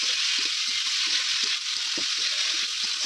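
Okra and potatoes with turmeric and salt are stir-fried in a pan on a clay stove, giving a constant close hiss of oil with rhythmic scraping and clinking of the stirring spoon.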